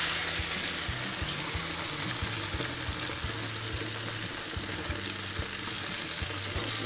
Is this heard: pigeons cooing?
no